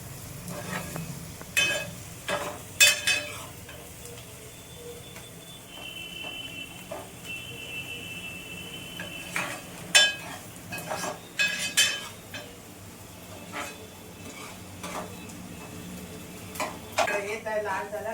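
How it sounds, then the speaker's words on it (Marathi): Onions sizzle and fry until golden brown in a pan for a home-style crab curry, with intermittent scraping and clattering stirring strokes, a spoon knocking the pan, and a voice talking in the background. "गोल्डन ब्राऊन होईपर्यंत परतायचे."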